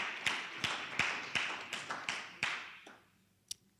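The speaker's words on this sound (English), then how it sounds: "Round of applause, please." Applause at a certificate-of-completion ceremony: a handful of sharp, evenly spaced claps ring out over a thin wash of crowd clapping, then fade away, ending with one last isolated clap.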